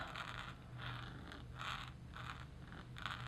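Firm fountain pen nib scratching across paper in short repeated strokes, about five bursts of dry scratchy writing at a steady rhythm, close and fairly quiet over a low background hum.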